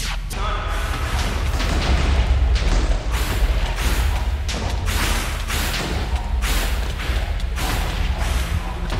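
A monster in a Minecraft horror mod fires missiles in a dense, loud barrage of booming thuds and blasts that continues without a break.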